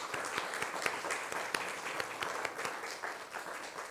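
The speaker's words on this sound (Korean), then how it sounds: "우리 자리에서 한번 일어나 주시면 박수로 환영하겠습니다" A church congregation at a Korean community Sunday service in Chile applauds to welcome a visitor, with sharp individual claps standing out in a lively, fairly close round of clapping that lasts throughout.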